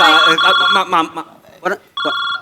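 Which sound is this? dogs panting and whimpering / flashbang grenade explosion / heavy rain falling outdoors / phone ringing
phone ringing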